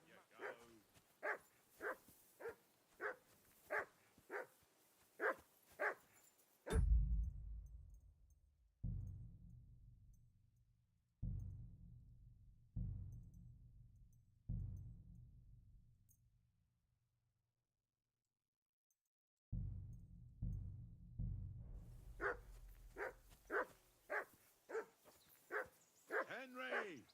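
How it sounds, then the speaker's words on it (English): A dog barks in a quick regular series of sharp yelps, then deeper separate barks with pauses, then a fast run of yelps again, fairly close and alone. "Whistle at that mutt of yours to stop barking!"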